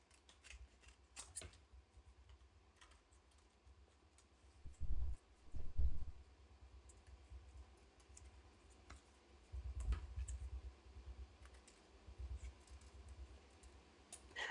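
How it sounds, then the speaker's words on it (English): Scissors snip out a shadow puppet leg, probably from household materials. Soft, sparse clicks and cuts come close but faint, with a few louder handling bumps in a quiet room and no talking. "So we're going to cut out this second leg."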